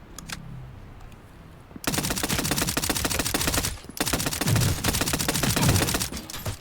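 Rapid video game gunfire while shooting an enemy, loud repeated automatic bursts after a quieter opening, with a short pause midway before the firing resumes.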